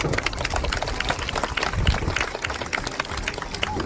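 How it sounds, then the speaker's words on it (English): Applause from a crowd at an outdoor falconry bird show at a safari park, a steady dense wash of clapping filling the stretch, moderately loud and continuous. "Let's give him a round of applause."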